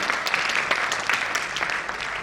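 An audience at a mushaira, an Urdu poetry gathering, claps steadily and densely throughout, a continuous close wash of many hands with no voices over it.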